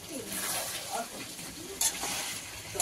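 Fried potatoes are tipped into a pan of spicy red chicken curry and stirred, with faint sizzling, soft scraping and a couple of sharp clinks as a voice talks over it.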